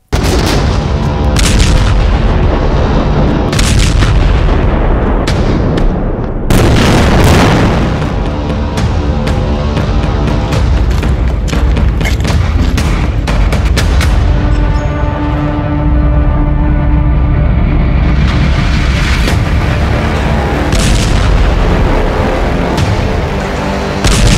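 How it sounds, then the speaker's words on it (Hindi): Artillery shelling and heavy bombardment in a war zone produce repeated loud, booming blasts and sharp reports in dense succession, with rumbling aftershocks filling the gaps throughout. "धुआंधार जो बम्बार्डमेंट हो रहा था, तोप के गोले दागे जा रहे थे"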